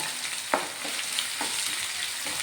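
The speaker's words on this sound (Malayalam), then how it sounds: "ഇനി ഇത് നന്നായിട്ടൊന്ന് വഴറ്റിയെടുക്കണം" Chopped ginger and garlic sauté in hot oil in a pan for mango pickle, a steady close sizzle broken by a few sharp scrapes of a spoon stirring, with no talking.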